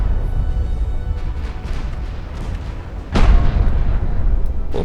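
A torpedo slams into the warship Takao in a naval battle game, a sudden loud boom about three seconds in, rising over continuous low engine and sea rumble and then rolling on as a sustained heavy roar.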